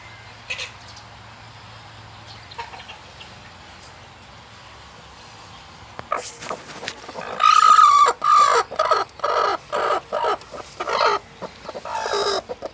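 Several chickens cluck and squawk in quick, overlapping bursts at close range, following a stretch of quiet background noise.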